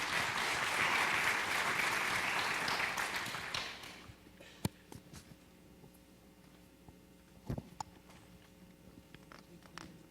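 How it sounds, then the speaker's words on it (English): A round of applause for a sponsor at a mayoral candidate forum on nonprofit impact, with full crowd clapping for about four seconds that fades out, leaving a quiet room with a few scattered taps and knocks. "let's give Documation a round of applause,"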